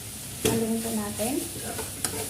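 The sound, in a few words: stirring food frying in a pan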